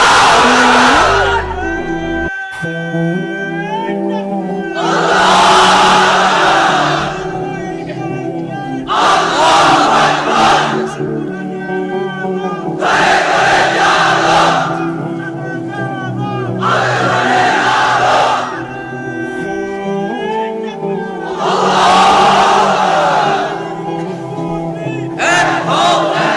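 A large crowd of unmarried men at a religious gathering shouts the takbir in loud unison, several long swelling bursts of chanting answering a leader's calls, with brief pauses between each roar.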